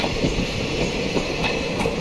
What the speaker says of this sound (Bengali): ওই সামনে ডেমো ট্রেনও আবো দাঁড়া করাই লইছে